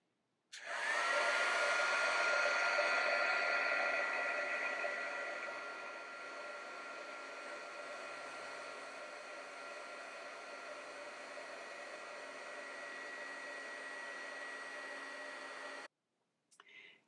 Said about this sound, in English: let's get out our heat tool and see what we get here